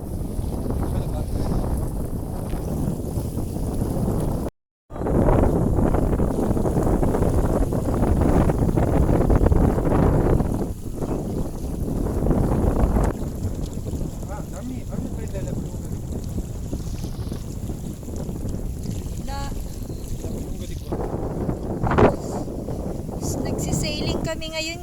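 Strong wind buffets a sailboat at the beach, a steady loud roar of gusts across the microphone that runs almost unbroken, with a brief dropout early on and voices talking over it.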